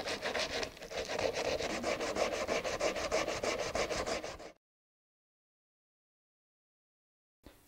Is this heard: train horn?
no